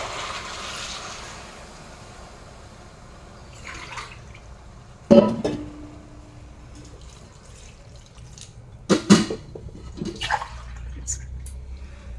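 Water is poured into a pot of soaked, sautéed rice for veg pulao. There are two short splashing pours a few seconds apart, moderately close, with faint kitchen clatter around them.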